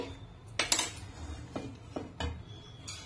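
A cooking pan is set down on a stove with a few sharp metallic clanks and taps scattered over a quiet room hum, near and fairly soft, with no talking.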